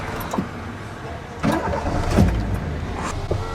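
Key-start of a 1997 Toyota Corolla XE engine: a brief cranking burst leads into the engine catching and settling to a steady, close idle.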